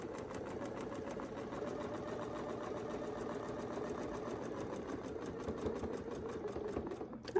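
A sewing machine stitches steadily while sewing an oval along a Westalee template, a fairly quiet, continuous rapid needle rhythm that ends with a brief knock.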